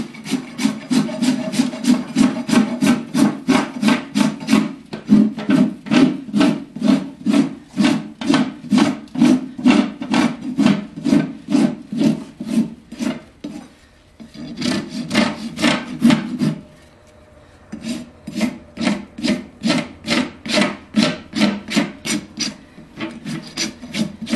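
A farrier works a rasp across a horse's hoof set on a hoof stand, giving loud, close, steady rhythmic strokes in long runs with a brief pause midway, no talking.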